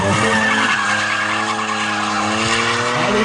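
Car drifting with sustained, loud tire squeal over a rising and falling engine note, a continuous skid lasting the whole stretch; no voices.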